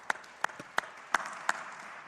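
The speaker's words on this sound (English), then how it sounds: "Let's give a round of applause for that response." Brief applause from an audience at an agriculture day student panel, a handful of distinct, sharp claps spaced apart over a soft background, fairly close and short-lived.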